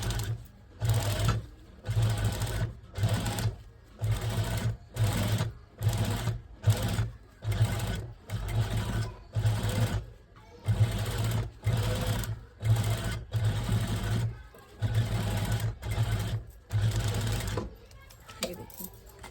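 A sewing machine stitches fabric in short repeated bursts with brief pauses between them, close and fairly loud, with a steady motor whir and rapid needle clatter, and a voice speaks now and then.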